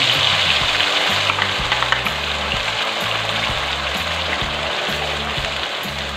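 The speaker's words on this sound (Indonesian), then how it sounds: "Langsung aja sekarang aku masukin bumbu halus." Ground spice paste sizzling and crackling steadily as it is sautéed in hot oil in a pan, a loud, continuous fry with no talking.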